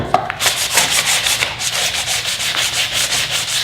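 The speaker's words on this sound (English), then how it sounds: "When sanding the edges, you want to round off the excess grain of the wood" Rhythmic sanding of a wooden magnetic beer opener, close and loud, strokes rasping back and forth in a steady repeating pattern after a brief tap at the start.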